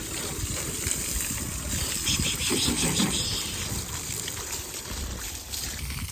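Water sprays onto a vehicle while it is being washed in a village, a continuous hissing splash with trickling and dribbling, moderately quiet and steady with slight surges midway.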